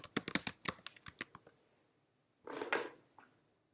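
Password being typed on a computer keyboard: a quick close run of crisp key clicks, a pause, then a brief burst of softer rattling keystrokes.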